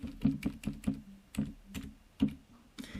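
Keys clack on a computer keyboard as shortcut combinations are pressed, a quick uneven run of close, crisp taps followed by a few spaced presses, with no talking.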